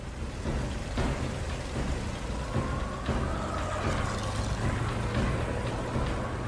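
Steady heavy rain hisses throughout, with low rumbling beneath that suggests distant thunder; no voices.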